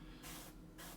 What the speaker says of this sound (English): you get the overspray from the cone-shaped spray of the airbrush